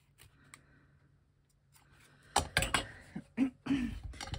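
Scissors cutting through heavy cotton lining fabric, a few close, crisp snips in quick succession after a quiet stretch.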